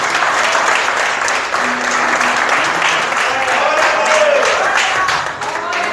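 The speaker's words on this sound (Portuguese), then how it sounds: "Aplauda o Senhor Jesus pela vida do irmão Frank." A church congregation applauding in praise during an evening service, loud dense clapping held steady throughout with a murmur of voices mixed in.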